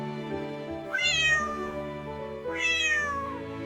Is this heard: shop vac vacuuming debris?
no